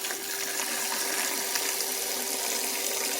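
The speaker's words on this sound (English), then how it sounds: "I'm rinsing it in cold water." Cold tap water runs over Pasta Zero spaghetti noodles being rinsed, a constant broad splashing hiss at moderate level with no speech over it.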